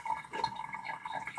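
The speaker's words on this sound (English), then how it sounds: "Kitten is sipping some water." A kitten laps water from a running faucet, quick soft lapping sounds over the steady trickle of the tap, quiet and close.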